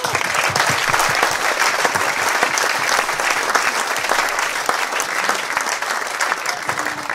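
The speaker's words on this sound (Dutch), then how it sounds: "Mag ik een hartelijk applaus voor Marianne Vos." Warm audience applause for cyclist Marianne Vos at a cycling talk show event, sustained, even clapping from a crowd, with a faint voice now and then beneath it.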